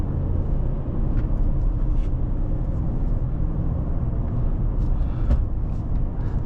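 A 2026 Ram 1500 RHO pickup's engine drones steadily while driving, a loud, constant low rumble with road noise and a few faint clicks and knocks over it, and no talk.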